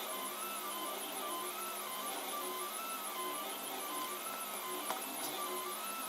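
A 3D printer at work with a steady mechanical whir and shifting stepper-motor tones that hold at an even level throughout, broken by one faint click near the end.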